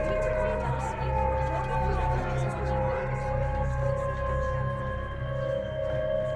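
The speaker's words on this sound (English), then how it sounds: "That siren means you don't have a choice" An air raid warning siren wails continuously at a steady pitch with a slow rise and fall, heard at some distance and present throughout, while people talk over it.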